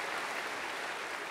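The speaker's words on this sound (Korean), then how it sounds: "한 번 더 감사의 박수" A congregation at a Sunday church service gives a brief round of applause, a dense steady patter of many hands clapping together, moderately distant.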